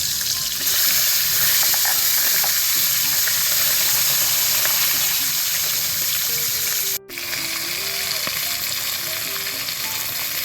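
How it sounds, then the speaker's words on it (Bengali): A fish head fries in hot oil with a loud, dense, crackling sizzle heard up close. It runs steadily, with one brief dropout partway through, and no one speaks. "এবার মাছের মাথাটা ভেজে নিচ্ছি"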